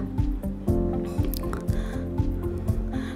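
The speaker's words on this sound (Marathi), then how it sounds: "आपण इथे सर्व भाजी घालून घेऊया आणि एक दोन मिनिटे फोडणीमध्ये छान परतून घेऊया" Wild amaranth greens are stirred in hot oil tempering in a pan, giving a continuous sizzle with repeated soft squishing and scraping as the leaves are tossed.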